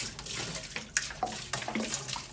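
Water poured from a gallon jug into a Maytag washing machine during winterization, a splashing, gurgling pour with a few sharper splashes as the stream shifts, close and alone.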